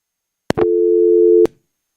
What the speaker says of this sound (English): Well, it says it's ringing, but it's not coming through.